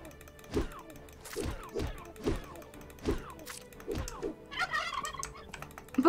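Chicken-like creatures in the video game My Time At Portia give a string of squawking, gobbling clucks with thumping hits at a steady pace, fairly close, followed by a brief scrape near the end.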